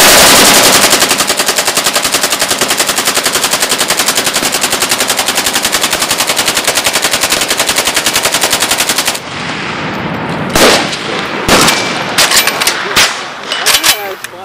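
A full-auto 7.62 Krink rifle empties a 230-round drum in one long, unbroken, very loud rapid burst of about nine seconds, then stops. Scattered shorter sounds and voices follow.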